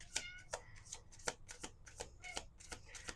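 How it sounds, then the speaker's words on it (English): Tarot cards are shuffled by hand in quiet, rapid riffling bursts, about eight crisp flutters at a steady pace, close and soft, with no talking over them. "Let's do two more shuffles."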